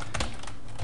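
Someone types C# code on a computer keyboard. A short burst of close, crisp keystrokes clatters in quick succession, with no speech.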